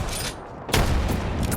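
Repeated 30-30 Repeater rifle shots in a tournament match of a competitive shooter game, sharp bursts layered over a dense, busy game-audio bed, with a louder volley in the second half.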